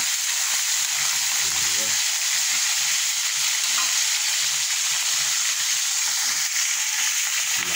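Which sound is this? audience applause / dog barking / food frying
food frying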